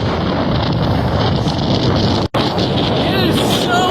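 Strong wind roars continuously into the microphone beneath a tall wind turbine, a loud, steady buffeting rush with one brief dropout midway.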